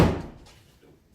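A door is closed with a single solid thunk at the start that quickly dies away into a quiet room.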